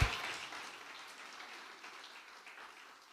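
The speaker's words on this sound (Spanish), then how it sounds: "Dale un aplauso al cielo, la gloria." A church congregation applauds in a sustained, fairly quiet patter of clapping. It starts strongest and slowly fades away.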